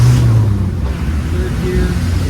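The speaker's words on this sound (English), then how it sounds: "let's rip through the gears again." A 1995 Land Rover Defender 110 with a 200Tdi diesel engine pulls through the gears, a steady low engine drone running continuously and fairly loud throughout.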